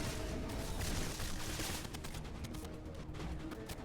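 Dense video-game gunfire from a Mass Effect firefight against Batarians, rapid overlapping shots forming a loud, continuous barrage that stays steady throughout.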